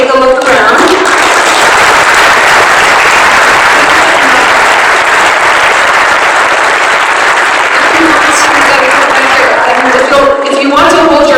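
Loud, sustained applause from a community crowd at a long-term recovery kick-off meeting for commission members, dense clapping filling the room for about ten seconds before a speaking voice emerges at the end.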